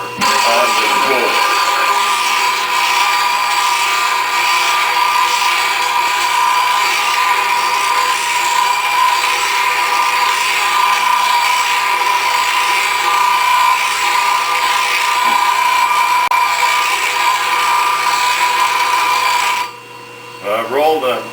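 A bench grinder whines continuously and loudly while it sharpens a Hannes Tool woodturning gouge to a Michelsen grind, the tool rolled against the wheel. The whine cuts out near the end, and a voice is briefly heard at the start and finish.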